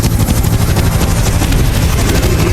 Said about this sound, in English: Zahi, do you hear some helicopters?